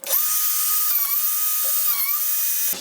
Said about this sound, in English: I'm going to go ahead and do a round over on my hanging hole using my handheld router